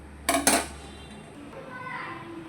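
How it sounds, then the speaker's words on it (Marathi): An iron tava griddle set down on a stove, two quick metallic clanks close together, followed by quiet room tone with faint voices. "इथं ठेवला लोखंडाचा तवा."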